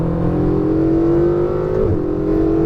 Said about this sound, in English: Now winding the wheel, just squeezing into the throttle.